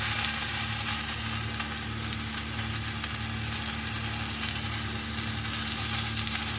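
Potatoes and pointed gourd fry in a pan while being stirred, giving a steady, close, even sizzle that holds at one level throughout with no voices.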